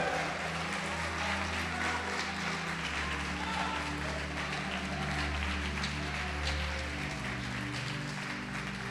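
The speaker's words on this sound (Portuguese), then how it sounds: "Pode aplaudir e glorificar o Senhor." A church congregation applauds during a service, a sustained wash of clapping with organ or keyboard tones running underneath throughout.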